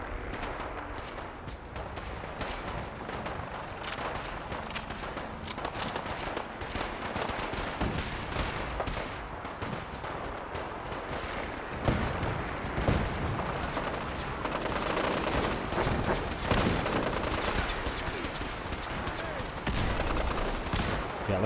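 Gunfire in a Fallout 4 firefight, a long, dense barrage of rapid shots and heavier booming impacts from several weapons that carries on steadily and grows louder toward the end, with a voice talking over it.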